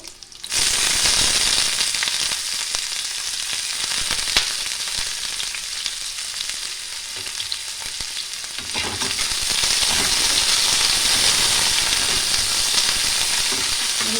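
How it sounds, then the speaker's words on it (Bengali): Chopped onion and garlic fry together in hot oil, a loud dense crackling sizzle that holds steady throughout and swells a little louder toward the end, with no one talking. "রসুন আর পেঁয়াজ একসঙ্গে আমি ভেজে নিচ্ছি"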